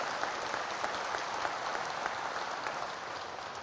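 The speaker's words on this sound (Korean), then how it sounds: "지지하는 사람 박수 해봐요." An audience at a religious lecture claps in sustained, dense applause, steady and fairly even across the whole stretch, with no voices standing out.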